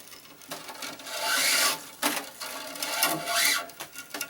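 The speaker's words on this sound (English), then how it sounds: "Then I'm going to take this clamp off." A flying clamp is taken off and strings are clamped while a racket is strung, giving close rubbing and scraping bursts with brief knocks and clicks.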